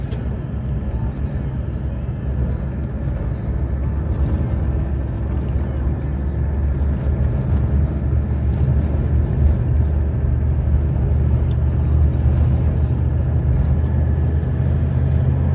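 A SpydaBot Venom vehicle runs fast down a dirt road at about 80 km/h, giving a steady, loud rumble of engine and road noise throughout, with a voice speaking over it.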